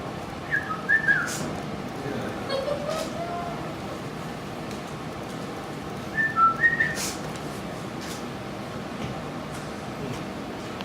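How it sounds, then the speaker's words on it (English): Two brief bursts of bird song, a whistled chirping phrase near the start and another midway, stand out over a steady low background rumble, with no other distinct sounds between them. "I remember hearing those birds."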